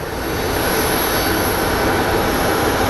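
Boeing 737 jet at Phoenix Sky Harbor airport gives off a constant broad roar of engine noise, steady and moderately loud throughout, with no voices.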